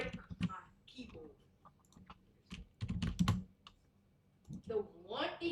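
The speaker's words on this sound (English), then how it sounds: "Don't break my keyboard." Clicky computer-keyboard typing comes in scattered bursts of keystrokes, mixed with nearby speech and soft mouth noises.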